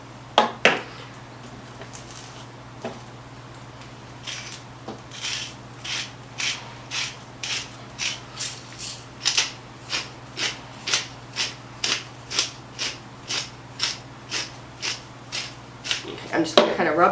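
Hands rub salt and pepper into a beef tenderloin on a board. The rubbing makes a long run of rhythmic, gritty scrapes, about one every half second, over a steady low hum, with a few sharper knocks at the start and end.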